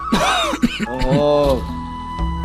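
A man clears his throat and coughs a few times with a rough, voiced quality, close up, and a brief tonal hum follows.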